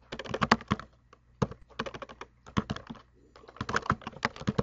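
Typing on a computer keyboard while navigating to a database directory, close, crisp key clicks in quick irregular bursts separated by short pauses, with no voice over them.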